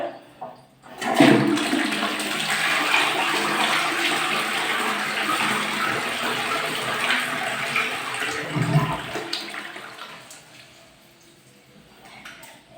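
A toilet flushes after the bowl has been cleaned, a loud close rush of water that runs for several seconds, then settles into a quieter refill.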